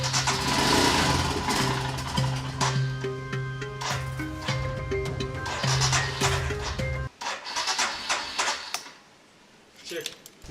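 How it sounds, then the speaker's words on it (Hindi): A video-game motorbike cranks repeatedly and fails to catch, giving a sputtering, buzzing mechanical churn. Someone talks over it, and the noise cuts out abruptly after about seven seconds, followed by scattered clicks and rustles. "गाइस मेरी बाइक चालू नहीं हो रही"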